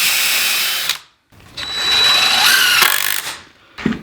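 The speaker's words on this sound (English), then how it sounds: "we're gonna drive 3 screws into this bottom stretcher" A power drill drives screws into the bottom stretcher of a DIY wooden patio chair, two close, loud whirring bursts separated by a short pause, then a brief final spin.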